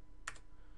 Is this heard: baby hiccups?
no